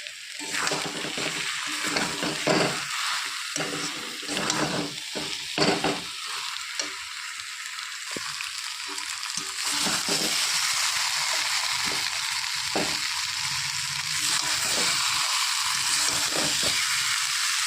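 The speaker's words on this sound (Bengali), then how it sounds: "সমস্ত মশলা ভালো করে কষিয়ে নিয়েছি" Spices with cumin and chili powder fry and are stirred in a pan for a katla fish curry with potatoes and drumsticks, giving a continuous hissing sizzle broken by scraping stirring strokes, which grows steadier later, with no talk.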